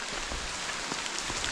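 Steady, dense rain falls in a rainforest on the Atherton Tablelands, an even hiss of drops on leaves and surfaces with no voices.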